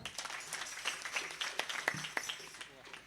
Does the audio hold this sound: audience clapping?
yes